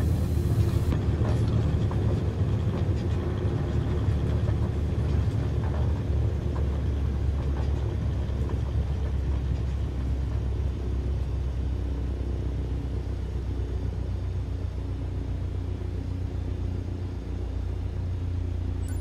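An airplane brakes to a stop on a runway in Microsoft Flight Simulator 2020, a steady low rumble with mechanical rattling that slowly eases, with no talk over it.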